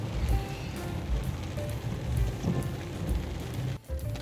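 Rain pours steadily on a muddy mountain road at a campsite, a dense patter of drops with low rumbling beneath and a brief dip near the end.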